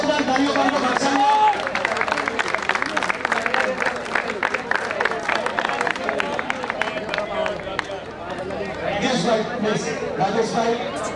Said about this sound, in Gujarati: જોરદાર તાળીઓ પાડો